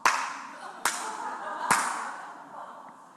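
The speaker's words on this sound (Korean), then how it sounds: "내가 박수 칠 테니까 눈 뜨시 바랍니다" A pastor delivers three sharp, loud hand claps at a steady spacing during a church sermon, each crack ringing briefly into the hall before the next.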